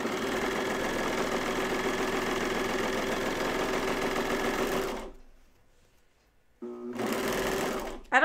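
A serger trims about a quarter inch off a fabric edge in a steady, fast mechanical whirr that runs continuously, stops for over a second, then briefly restarts.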